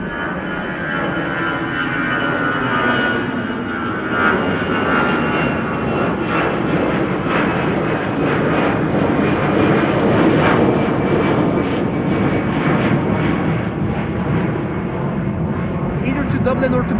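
Aer Lingus airliner climbing out close by on departure from Amsterdam Schiphol on a sunny day: a loud, sustained jet engine roar that swells and slowly fades over many seconds, steady and dense throughout.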